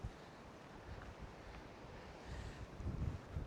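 Strong wind gusting at Witsand beach, rumbling and buffeting the microphone, swelling louder near the end, with faint surf underneath and no voices.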